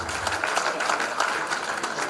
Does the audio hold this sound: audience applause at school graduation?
yes